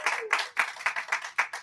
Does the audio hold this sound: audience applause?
yes